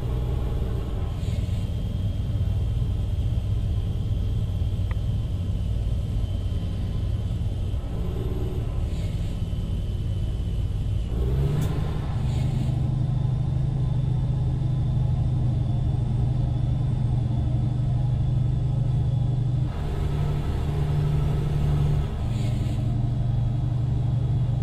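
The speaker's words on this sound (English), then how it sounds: "See how that engine brake sounds." Peterbilt 389 truck in American Truck Simulator, its engine brake giving a steady, loud low droning rumble that shifts pitch partway through and holds on, with no talking.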